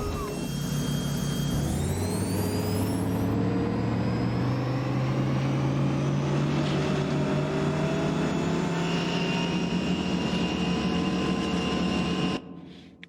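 Modded engine sound in American Truck Simulator, a jet-like Super Pursuit mode whine layered over a truck engine under throttle, rising in pitch in the first seconds and holding steady and loud until it cuts out near the end.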